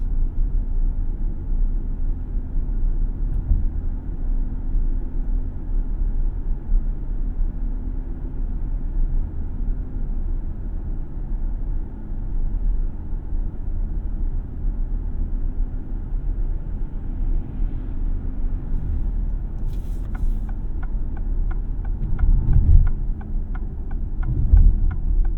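A 2024 Alfa Romeo Tonale Ti plug-in hybrid's gasoline engine starts up during night driving, a steady low rumble and hum inside the cabin that swells into a slightly louder throbbing toward the end.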